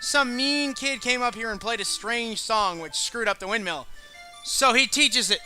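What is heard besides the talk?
No distinct noise like a dog, phone or traffic.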